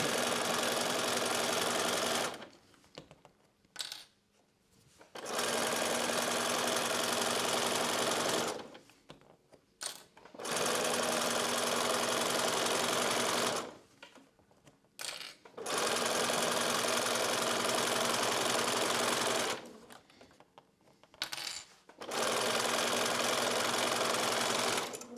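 A sewing machine stitches in the ditch on quilt binding in loud, steady runs of rapid mechanical whirring, stopping and restarting four times with short pauses between runs.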